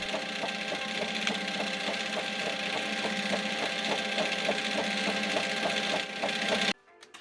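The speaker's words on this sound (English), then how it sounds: "The labels are printed using a direct thermal transfer process and are re-rolled as they exit the" A direct thermal label printer runs newspaper mailing labels and re-rolls them, a steady mechanical whir with fast regular clicking pulses for about six seconds before it suddenly stops.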